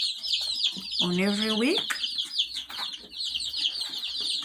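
Kuroiler chicks on a poultry farm give a dense, continuous chorus of high peeping and clucking, with a louder near call rising briefly above it, while a person talks over the flock.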